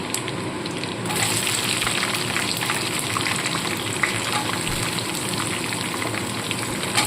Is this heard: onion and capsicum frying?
yes